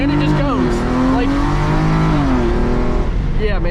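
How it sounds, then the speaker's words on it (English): A Hyundai Genesis Coupe launches hard with traction control on, its engine revving loudly and steadily rising in pitch, cutting back briefly before climbing again, close and continuous, with a voice speaking over it. "We're just gonna pull out and then foot to the floor."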